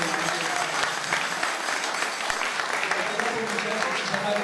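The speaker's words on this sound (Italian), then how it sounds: "Ancora un applauso per la professoressa Giacomini." Steady, fairly loud audience applause rolls on at an opera arias concert in Jesolo, a dense wash of clapping from a large hall with faint voices mixed underneath.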